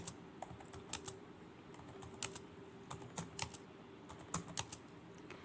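Numbers being typed on a computer keyboard into an Excel spreadsheet, a quick irregular run of soft key clicks, close and quiet over a low hum, with no talking.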